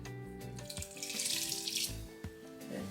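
Hot venison stock poured slowly through cheesecloth, a steady close splashing stream of liquid with a faint sizzle, running without pause for about three seconds over a quiet background.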